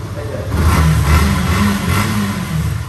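A used motorcycle in fresh condition runs steadily after a self-start, its mid-pitched engine holding a constant, fairly loud drone with slight rises in revs throughout.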